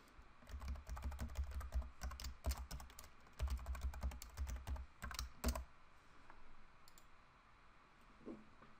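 A password being typed on a computer keyboard: a quick, close burst of keystroke clicks for about five seconds, then quiet room tone with one faint late tap, with no speech.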